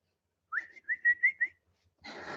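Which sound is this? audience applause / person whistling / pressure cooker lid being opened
person whistling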